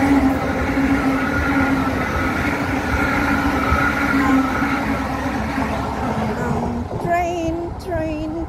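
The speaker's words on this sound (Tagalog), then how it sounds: "Kaya ayan, may train na naman." Train passing along the seaside at Sunny Bay: a loud, steady rumble and rail roar that fades after several seconds as the train heads into a tunnel, with some talk over it near the end.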